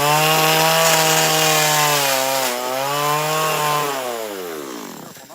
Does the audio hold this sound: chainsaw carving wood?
yes